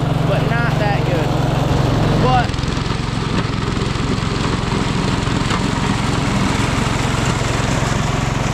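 A John Deere 110 lawn tractor fitted with chains and a plow pushes snow, its small engine droning steadily and close throughout, with a brief higher whine near the start.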